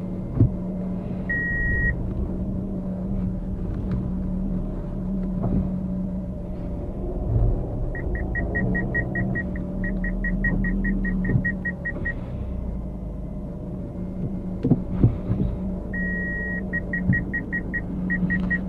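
A manual Suzuki Ignis reversing uphill on the clutch without throttle gives a steady low engine rumble, with bursts of rapid electronic parking-sensor beeps repeating over it.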